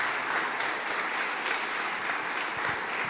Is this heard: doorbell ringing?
no